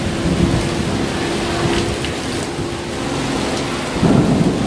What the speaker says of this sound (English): We're in the rain again.